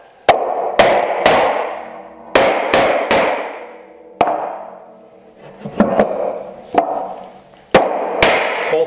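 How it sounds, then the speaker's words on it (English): Sharp wooden knocks ring out from a mallet or hand tapping the back of a holdfast on a woodworking bench to release it, landing in irregular clusters of two or three loud, close strikes with brief ringing decay and no talk. "Hold fast are released by tapping on the back of the hold fast."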